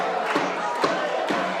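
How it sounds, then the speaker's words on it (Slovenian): Away supporters cheer at a lower-league Slovenian football match after their side scores a late goal, a steady crowd roar with three sharp swells of shouting at regular intervals. "Veselje gostujočih navijačev, ki so prišli v sosednji kraj podpirati svoje ljubljence"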